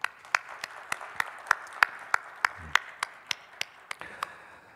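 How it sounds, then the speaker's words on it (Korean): Sparse, evenly spaced claps from a church congregation welcoming pastors during a Sunday worship service; a few distinct hand claps ring out one after another in a quiet room. "우리 인사하실 때 큰 박수로 환영하도록 하겠습니다."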